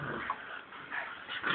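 A dog whimpers and yips in short high-pitched bursts while tussling over a ball, three brief cries close to the listener.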